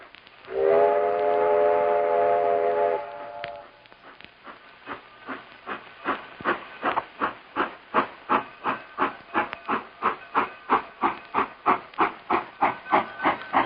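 A steam locomotive on a Florida theme park train ride sounds a long whistle, then pulls away with rhythmic chuffing that steadily quickens, loud and close.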